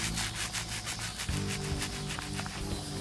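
Rhythmic rubbing strokes as paint is wiped off a DIY speaker panel, repeated scrubbing passes heard close and quiet.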